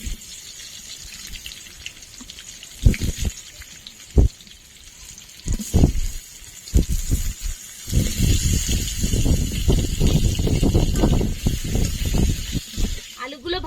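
Potatoes dropped into hot oil for a rui fish curry with cauliflower: scattered pops and crackles at first, then a loud, close, sustained sizzle with occasional utensil knocks.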